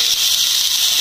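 Vegetables dropped into frying onions in hot oil, cooking a tengra fish curry, give a loud, steady, close sizzling hiss that holds without a break.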